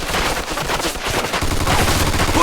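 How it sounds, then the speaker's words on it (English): Sustained machine gun fire rattles loudly and continuously in the Mafia 2 Definitive Edition gunfight, a dense rapid stream of shots with no pauses and no talking. "Looks like we found the machine gun!"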